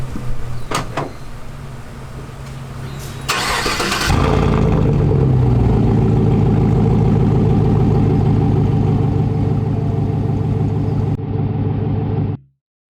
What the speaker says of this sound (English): Alright, let's move the truck so we can wash it.